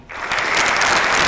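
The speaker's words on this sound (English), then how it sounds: "please join me in providing a resounding round of applause for a true beacon of progress" Audience applause breaks out in a lecture hall at IIM Lucknow, building quickly from near silence into a full, steady round of clapping that fills the room.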